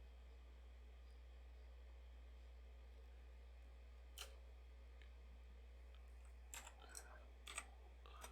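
A handful of faint, sparse keystrokes on a PC keyboard sit over a steady low electrical hum: one lone tap early on, then a short cluster of clicks near the end.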